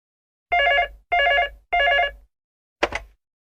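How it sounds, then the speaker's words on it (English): Telephone bell ringing three times in even, evenly spaced bursts, clear and close, followed by a short click as the handset is picked up. "is phoning her friend Richard and inviting him for dinner at the weekend"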